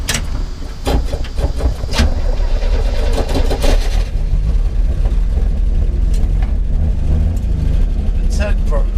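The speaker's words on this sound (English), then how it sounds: "See if this thing will crank here." A 1959 Chevrolet Apache engine with a straight pipe cranks briefly, then catches and runs loud and steady in a shed garage, a raw rumbling exhaust filling the whole stretch, with voices heard at times.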